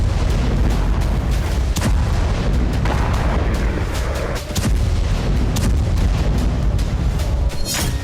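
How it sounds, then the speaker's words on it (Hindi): Russian phosphorus bombs explode in a war zone in Ukraine, a dense barrage of loud booms and sharp cracks layered over a constant roaring rumble, with distinct blasts near 2, 4.5 and 7.5 seconds. "ये रूस का फास्फोरस बम है, जो बेहद घातक है।"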